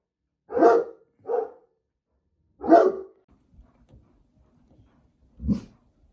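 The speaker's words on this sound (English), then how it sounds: "Indy's barking at him." Dog named Indy barking outdoors, four sharp, fairly close barks in an irregular pattern separated by pauses, with faint scuffling between them.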